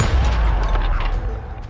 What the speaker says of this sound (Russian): С дробовика.